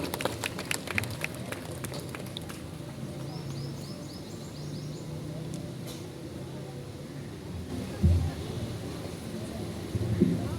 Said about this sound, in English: Please clap for him, appreciate him.